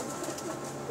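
Pigeons cooing softly on a rooftop, a faint, low murmur of coos running steadily under light background noise with no talk.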